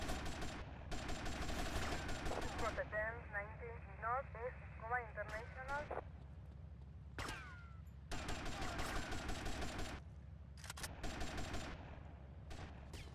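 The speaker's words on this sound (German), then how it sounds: "Die fangen halt jetzt schon an, auf mich zu schießen." Enemy gunfire in the video game GTA Vice City, heard as repeated loud bursts of rapid shots with pauses between volleys, mixed with game sounds and someone talking.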